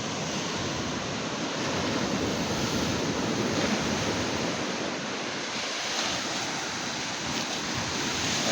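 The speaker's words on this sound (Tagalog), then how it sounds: "malalaki na naman ang alon." Big ocean waves break in a continuous, loud roaring wash of surf, steady throughout with wind noise mixed in and no voices.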